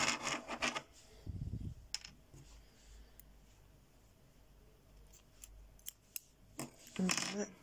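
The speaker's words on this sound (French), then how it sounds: "Serrez, hop, on va couper notre fil." Scissors snip through crochet yarn at the end of a headband, a short crisp cut near the start followed by soft rustling of the yarn and a few faint handling noises.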